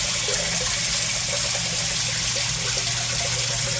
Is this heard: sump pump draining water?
yes